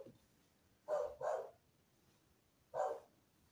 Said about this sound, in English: The dog's just losing his mind.